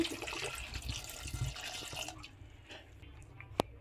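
Water is poured into a cooking pot to boil spinach with salt and turmeric, a soft, quiet gush and splash that stops after about two seconds, leaving a faint drip or tap near the end.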